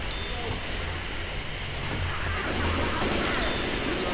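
Rapid gunfire from survivors shooting zombies in the game Left 4 Dead 2, a dense, continuous crackle of shots kept up for several seconds under faint voices.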